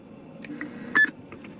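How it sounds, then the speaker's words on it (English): A Galaxy DX 959 CB radio fitted with an echo board and roger beep mod gives one short, fairly deep electronic beep near the middle, loud and clear above faint static hiss. "that's not too annoying of a beep because it's shorter and it's a little deeper"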